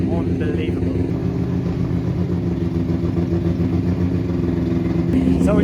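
Loud drift car engine at a night drifting event, a harsh continuous roar with revving and clatter, close and sustained throughout.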